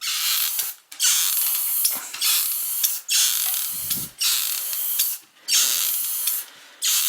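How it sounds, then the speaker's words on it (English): Close hiss of an aerosol can spraying black engine enamel on parts of a 1969 Ford Mustang with a 302 engine, in about six bursts of a second or so, separated by short pauses. "I'm using engine enamel because I don't have my lacquer or any other shit. But you know what? Black paint, black paint."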